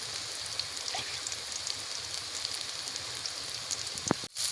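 Banana blossom fritters sizzle in hot oil with a steady, close crackling hiss that continues throughout, ending in a brief clatter near the close.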